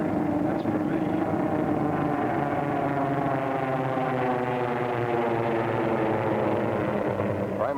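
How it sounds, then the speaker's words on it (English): F6F Hellcat aircraft fly past as a loud, steady engine drone with smoothly shifting pitch, heard over vintage narration-style talk. "Look at those F-6F."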